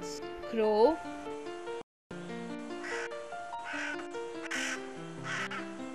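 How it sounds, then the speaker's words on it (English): A crow caws in a short series of harsh, close calls, with a brief silent gap partway through, heard against a background of steady music. "crow"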